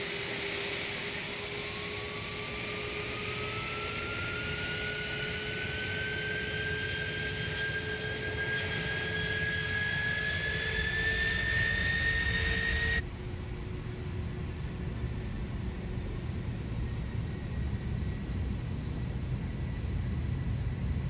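An Airbus A310 airliner's jet engines spool up in Microsoft Flight Simulator, a rising turbine whine climbing steadily over a broad roaring hum before the tone abruptly drops and thins.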